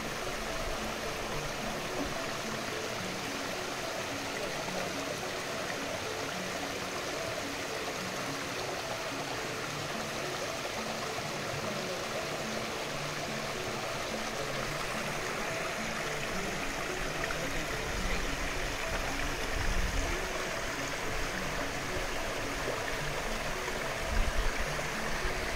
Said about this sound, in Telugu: అడుగడుగున ఈ జలపాతాల సౌండ్ అనమాట, ఈ సౌండ్ వినిపిస్తూ ఉంటుంది మనకి